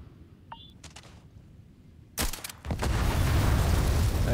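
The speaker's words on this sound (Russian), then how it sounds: "Взрывы классно сделали, мне нравится." Explosions in the Starfield video game, a couple of sharp booms followed by a loud, sustained roaring rumble, after quieter clicks and faint tones.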